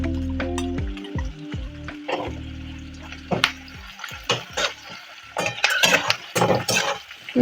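Chicken and capsicum sizzle and fry in a hot pan for chilli chicken while a utensil stirs and scrapes, with intermittent clinks of metal.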